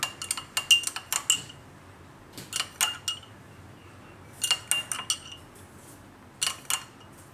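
A spoon clinks rapidly against a cup while tulsi tea is mixed, in close, bright bursts of metallic tapping separated by short quiet gaps, with no talking.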